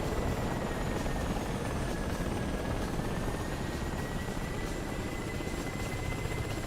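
Helicopter rotor and engine noise in the DCS World combat flight game during a helicopter dogfight competition: a dense, steady, loud roar with a faint whine that runs unbroken from start to finish.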